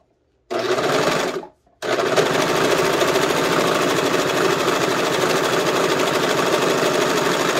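A sewing machine stitches the side seams of a skirt, running in a steady, loud mechanical buzz that pauses briefly near the start and then continues unbroken, with no talking.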